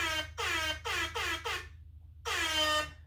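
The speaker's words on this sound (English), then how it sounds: "Should I get my air horn for this?" An air horn blares in five loud blasts: four quick honks in a row, a pause, then one longer blast.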